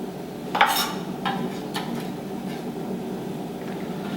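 Shallot and garlic are added to a balsamic vinaigrette mix, giving a couple of light utensil clinks against a bowl over a faint steady background hum.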